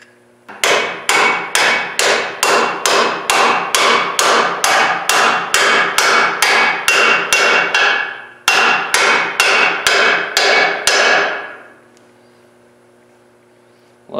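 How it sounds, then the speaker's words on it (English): A hammer drives a bushing into the axle of a 2009 F750 truck with an air-ride setup. Loud, evenly spaced metallic blows ring out close by, about two dozen of them with one brief pause before the last few, then the ringing fades. "A lot of guys drive them in with just a hammer"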